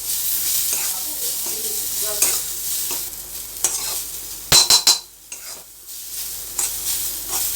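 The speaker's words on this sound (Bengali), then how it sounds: "পেঁয়াজটাকে একটু হালকা করে ভেজে নেব।" A small chopped onion fries in mustard oil in a wok, giving a steady soft sizzle with occasional stirring scrapes and a brief cluster of sharp utensil clinks midway.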